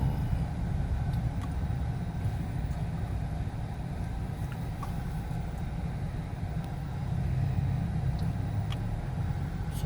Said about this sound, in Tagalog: So grabe ka traffic dito guys.